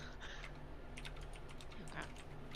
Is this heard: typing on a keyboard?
yes